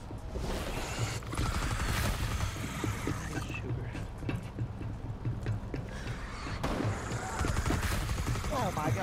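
Rapid gunfire bursts in the Rainbow Six Siege Outbreak mode, dense and loud, rattling almost continuously through the whole stretch while voices talk over it.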